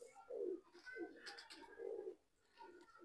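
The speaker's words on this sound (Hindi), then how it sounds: "ये दोस्तों पहला कबूतर" A racing pigeon in Punjab coos softly and repeatedly at close range, low throaty calls in a gentle rolling rhythm.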